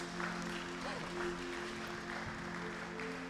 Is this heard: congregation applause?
yes